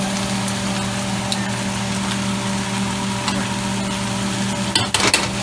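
Eggroll filling stir-fries in a pan with sesame oil, a continuous loud sizzle over a steady low hum, with a brief clatter of stirring near the end.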